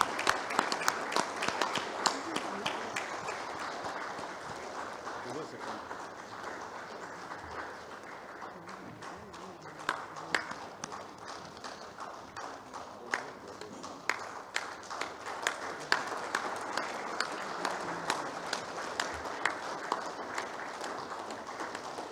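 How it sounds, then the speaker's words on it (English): A standing ovation from conference delegates honoring an oration: sustained applause from a large seated-then-standing audience, steady dense clapping with some sharper individual claps, a few faint voices underneath. "Can we have a standing ovation?"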